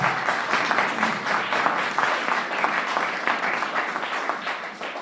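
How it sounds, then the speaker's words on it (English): An audience at a school board meeting breaks into steady, sustained applause, a dense wash of many hands clapping at once that continues for several seconds at moderate distance. "I'm going to ask that we refrain from clapping"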